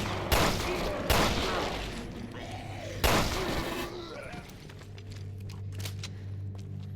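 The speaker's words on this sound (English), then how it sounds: "At least the gunshot sounds sound better than they did in Revelations 1." Gunfire in the video game Resident Evil Revelations 2: three loud, sharp shots spaced about a second or two apart, each with a short ringing tail, followed by quieter game ambience with a low hum.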